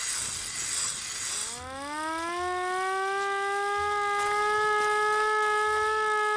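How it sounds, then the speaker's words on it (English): A siren blares in the video game Ad Infinitum, its wail rising in pitch over about a second, then holding as a loud, steady howl that drowns out everything else. "I guess they can't hear the ruckus I make while the siren is on."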